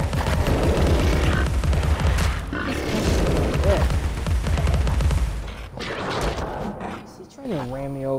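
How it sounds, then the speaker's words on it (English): Big explosion in the video game Alice: Madness Returns: a loud, dense burst of booming blast noise fills most of the clip over game combat sounds, fading near the end into a tonal game effect. "Look at that big explosion here."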